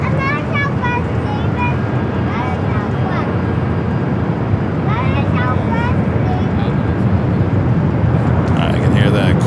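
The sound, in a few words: Boeing 747 taking off at LAX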